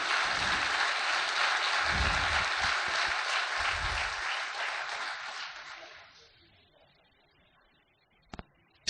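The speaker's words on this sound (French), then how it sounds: "Oui, je crois qu'on peut déjà l'applaudir pour ça." Audience applause at a live event, a dense crowd clapping steadily for about six seconds before fading out into near silence, with a couple of faint knocks at the end.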